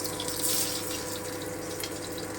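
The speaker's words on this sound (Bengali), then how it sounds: "এই যে তেলটা আমার গরম হয়ে গেছে এবারে আমি রসুন থেতোটা দিয়ে দিচ্ছি" Crushed garlic sizzling in hot oil for a stuffed bitter gourd dish, a steady, close hiss and crackle like running water that continues unbroken throughout.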